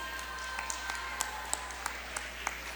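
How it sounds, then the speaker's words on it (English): Audience applause at a school Foundation Day ceremony in Jubail, a steady patter of clapping from a hall crowd with a few sharper, louder claps standing out near the front, moderately loud and free of speech. "A big round of applause, please."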